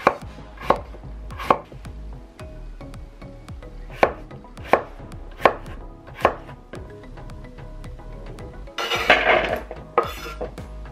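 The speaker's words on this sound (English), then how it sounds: "Slice potatoes." A knife slices potatoes on a cutting board for Japanese nikujaga beef stew, with about eight sharp, evenly spaced chops at close range, then a short burst of scraping and clatter near the end.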